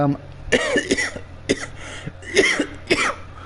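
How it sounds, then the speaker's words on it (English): A man coughs in a series of about five harsh, throaty bursts, close to the mic, with short pauses between them. "well, I'm coughing"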